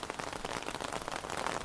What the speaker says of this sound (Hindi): ये देखो मोटी मोटी बूंदें आना चालू हो गई